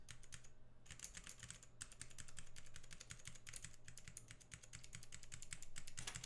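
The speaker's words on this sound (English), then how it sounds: "That sounds like it has something clicky in it." Steady, fairly fast typing on a custom Salamander TKL mechanical keyboard fitted with Holy Panda switches, each keystroke a crisp clack, close and continuous with only a brief pause.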